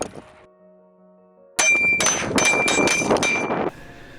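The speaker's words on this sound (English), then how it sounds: "how fast could I shoot 5 rounds onto a steel target?" Rapid rifle shots ringing off a steel target, five or so sharp metallic clangs and dings packed into about two seconds, loud and close after a quiet pause, with no talking.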